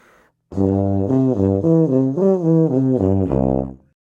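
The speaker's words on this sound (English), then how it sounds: "you get that hiss sound" A brass instrument plays a lip slur, shifting between notes in a steady up-and-down pattern, its tone edged with a breathy hiss from tongue placement, played alone and close.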